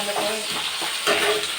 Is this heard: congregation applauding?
no